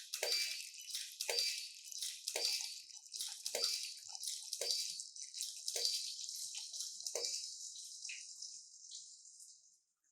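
Water pouring into a container for splash photography, heard as a run of bright, repeated splashing bursts at a roughly even rhythm, close and fairly loud, tailing off toward the end with no talk.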